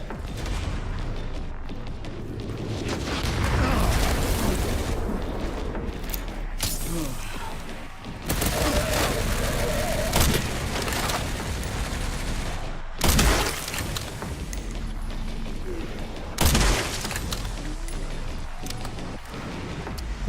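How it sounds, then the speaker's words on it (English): Mortar rounds in a survival horror video game explode in a barrage: repeated heavy booms and crackling blasts, with sharp loud hits separated by rumbling, debris-filled stretches. "Kind of a struggle to find places the mortars are not going to get you."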